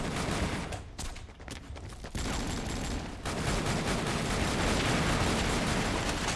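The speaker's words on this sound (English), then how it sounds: "Let's go ahead and blast away on her a little bit. We're getting shot." Rapid gunfire from the Avatar Star video game, dense bursts of shots sustained throughout, loud and continuous with brief dips in intensity.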